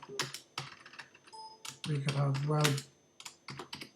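Clicky computer keyboard typing comes in short bursts of quick keystrokes, close and fairly loud, with a brief stretch of speech in the middle.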